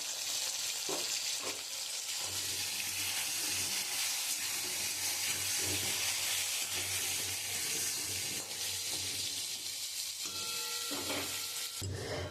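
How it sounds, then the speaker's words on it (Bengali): A constant hiss of pointed gourd frying in oil with turmeric fills the clip, with a low hum underneath and a few faint clanks near the start and end. "আমি পটলগুলো একটু লাল লাল করে ভেজে নেব"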